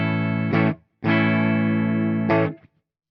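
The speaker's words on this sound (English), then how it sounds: "I'm going through the Soldano SLO 100 on a purely clean platform, and this is just the bridge humbucker." An EART T-380 electric guitar on its bridge humbucker, played through a Soldano SLO 100 amp on its clean channel: three strummed chords, a short stab, a long ringing chord, then another short hit, full and close.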